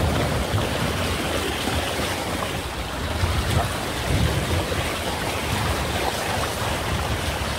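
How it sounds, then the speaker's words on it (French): Water sliding and rushing steadily along a boat's hull while under way, with a light wind noise blended in; a continuous, broad wash at moderate level with no talk. "on entend de l'eau qui glisse sur une coque et on entend un peu de vent"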